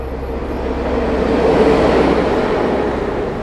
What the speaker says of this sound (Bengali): ট্রেন প্রায় কাছে চলে এসেছে।